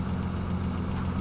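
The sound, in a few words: 2-cylinder 650cc Hayabusa engine being started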